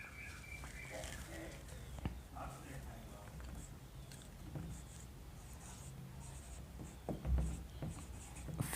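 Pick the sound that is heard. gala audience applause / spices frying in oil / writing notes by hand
writing notes by hand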